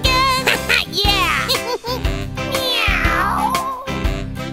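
Loud, drawn-out meows sound over a rhythmic backing in a children's counting song, likely a voice imitating a cat, with sliding pitch and repeated calls.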